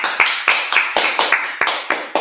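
Congregation clapping at a Sabbath service, a steady rhythmic clap roughly every quarter second, about nine sharp hand claps in unison, close and fairly loud with no talk over them.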